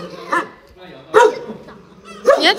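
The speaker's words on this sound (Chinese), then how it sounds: "这狗狗蛮凶的哈" Guard dog at a family home in rural Jiangxi barking in three loud, separate bursts spaced about a second apart, with people talking around it.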